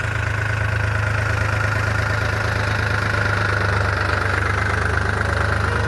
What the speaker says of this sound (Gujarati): આવી ગયા ટ્રેક્ટર લઈને જુઓ